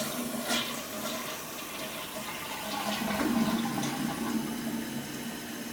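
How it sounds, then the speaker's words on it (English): A faulty toilet flushing, a close rush of water swirling and draining steadily for several seconds, then settling into a gentler refill trickle, with no talk. "Let's flush it one more time."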